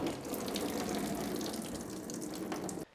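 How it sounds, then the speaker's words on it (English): Coolant draining from the side block plug of a BMW S52 engine, a steady close splashing gush of liquid running continuously for nearly three seconds before stopping abruptly. "I'm gonna go ahead and pull the coolant plug on the side of the block here"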